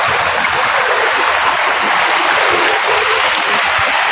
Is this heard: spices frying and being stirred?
no